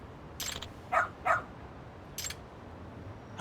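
A dog in the video game Lost Judgment tracks a scent, giving a few short, sharp barks and yips spaced over a few seconds against a quiet background.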